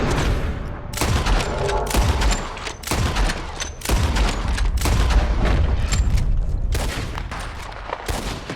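Heavy gunfire in Red Dead Redemption 2, loud repeated shots and bursts with booming reports spread across the whole stretch, fading slightly toward the end.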